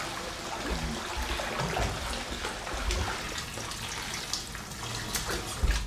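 Water sloshing and trickling in a hot bath as a fighter soaks to cut weight before a UFC bout, a steady close wash of splashing with no talk.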